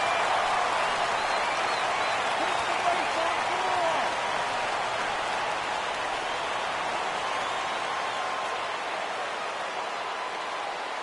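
A baseball crowd at a Marlins at Mets game in September 2014 keeps up a steady, broad roar as fans rise for a full count, loud and even throughout.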